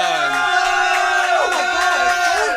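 A studio audience gives a loud burst of cheering and whooping for Fearne Cotton, a dense wall of crowd voices with a few shouts standing out.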